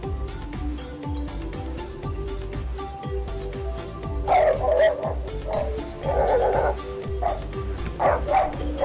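A dog yips and whimpers repeatedly in a steady rhythm, close and fairly loud, with a few stronger barks toward the end over a steady background hum.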